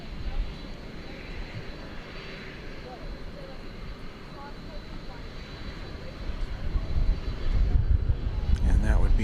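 An Airbus A321 jet on the runway at DFW Airport, a moderate continuous engine rumble with a faint steady whine that grows louder in the final seconds.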